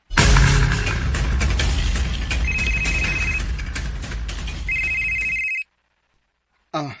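An incoming call on a cellphone, loud electronic ringing with repeated high tones over a busy background, cutting off suddenly, then a brief moment of sound after the silence.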